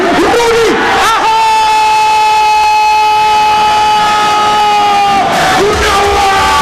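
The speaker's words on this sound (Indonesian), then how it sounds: "Sekali lagi, beri tepuk tangan kepada Rudy Ahok" A crowd roars and cheers for an MMA fighter after a TKO win at a One Pride MMA event in Indonesia, a loud continuous arena din with an announcer's amplified voice ringing over it.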